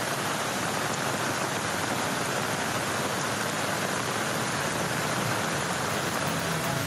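Heavy rain pours in Jakarta, a dense, unbroken hiss that holds steady and loud from start to finish with no voices over it.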